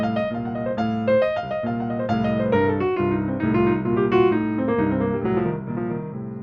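Jazz piano improvises freely over a blues form, with chords and melodic runs in a lively, continuous flow that is close and clear, and no voices.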